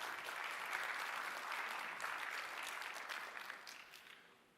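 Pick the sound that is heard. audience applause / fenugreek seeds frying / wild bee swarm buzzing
audience applause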